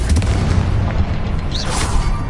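A Confringo fire spell detonates in the video game Hogwarts Legacy with a heavy, booming blast, surrounded by rumbling game effects and a brief rising whoosh.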